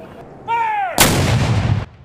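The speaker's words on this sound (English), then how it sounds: "With the blast of a Civil War era cannon" A Civil War era cannon fires a single booming blast at a Memorial Day ceremony at Rosehill Cemetery in Chicago, a loud sudden report that rumbles and decays after a brief rising whistle-like tone.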